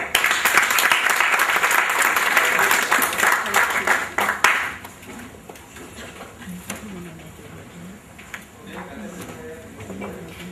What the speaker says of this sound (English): Please give him a very generous round of applause, Mr. Tadil Rao.